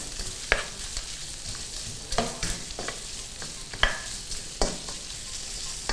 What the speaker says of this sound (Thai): ผัดให้แครอทสุกตามด้วยกะหล่ำปีค่ะ